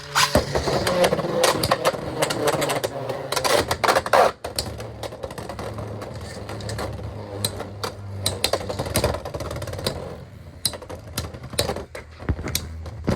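Beyblade spinning tops clash in a stadium arena with rapid sharp clicks and rattling impacts over a whirring spin, close and irregular.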